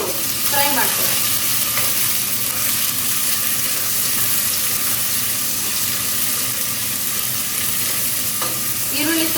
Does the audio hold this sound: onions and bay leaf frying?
yes